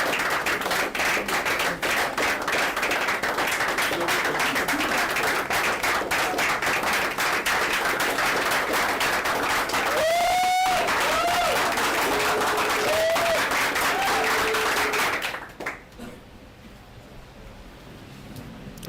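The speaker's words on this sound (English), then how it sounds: "Don't stop clapping." Dense, loud audience applause and clapping at a bootcamp event, sustained for about fifteen seconds with a few voices calling out over it, then cutting off abruptly to a quiet room.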